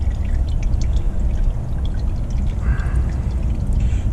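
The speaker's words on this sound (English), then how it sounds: "Pour the rest of our fuel in there." Diesel fuel from a Paccar X15 fuel filter pours steadily into a bucket, a continuous close, loud liquid splash without talk.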